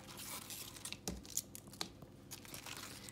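Dry outer leaves being torn off a cabbage, giving faint crinkly tearing and crunching sounds with a few sharper rips, close up and quiet.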